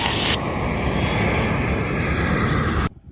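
A fixed-wing aircraft takes off from runway 09 at Bristol Airport, a loud, steady roar of engines held close and constant for nearly three seconds before cutting off abruptly.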